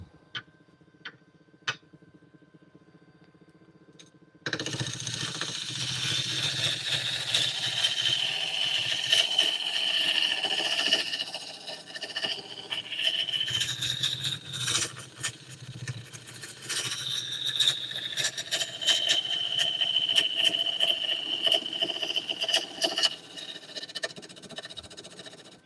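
A wood lathe spinning up with a roughing gouge cutting wood, starting after a few faint ticks and then giving a continuous rough scraping whir that rises and falls as the tool bites.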